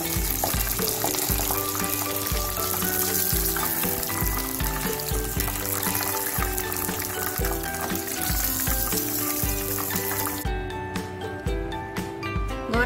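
Tofu frying in a pan of oil gives a continuous close, loud sizzle and crackle that eases slightly near the end, with no voices over it.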